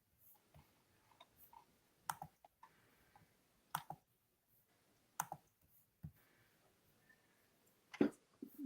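A computer mouse clicked several times in a quiet room, sharp close clicks spaced irregularly with short gaps of near silence between them.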